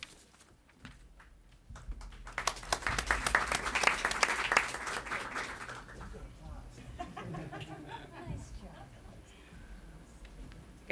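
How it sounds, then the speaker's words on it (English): A burst of applause from a crowd at an awards ceremony swells up, peaks, then tapers off, with some background noise and movement continuing afterward. "they got applause"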